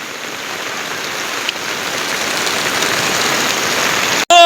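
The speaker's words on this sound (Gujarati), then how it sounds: "ફૂલ ધોધમાર વરસાદ પડી રહ્યો" Heavy rain pours down in a dense, constant roar, loud and close throughout, ending abruptly.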